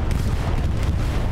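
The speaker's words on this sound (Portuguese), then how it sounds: "Olha o bombardeio!" Heavy World War II bombardment explosions in Hell Let Loose rumble loudly and continuously, a deep, dense wash of booming blasts and artillery impacts with no pauses.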